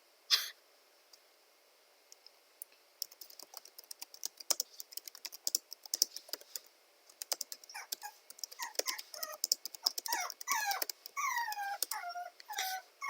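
Rapid keyboard typing clicks throughout, joined by a dog's high-pitched whimpers and yips that grow more frequent toward the end.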